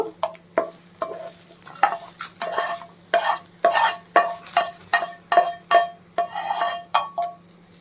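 A fried onion mixture for Andhra-style onion chutney is scraped from a pan into a bowl: a rapid series of about a dozen sharp spatula scrapes against metal over a faint sizzle.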